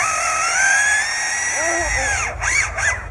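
A lyrebird imitates a power drill, whirring high-pitched tones followed by a few short rising and falling buzzes, close and fairly loud.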